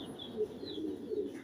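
Pigeons cooing at a pigeon farm, soft low repeated coos close by over a faint steady background, with no talk.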